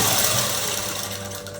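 A sewing machine runs fast and continuously, stitching dress fabric with a loud, close, even mechanical whir that slows slightly near the end.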